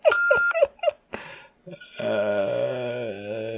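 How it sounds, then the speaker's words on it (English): Two short electronic chirps, then a sustained, slightly wavering tone holds steady for over a second. "Please leave a message after the tone."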